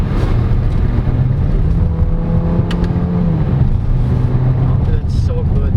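A Peugeot 5008 facelift under way, engine droning steadily with gentle rises and dips in pitch as gears change, heard from the cabin with someone talking over it.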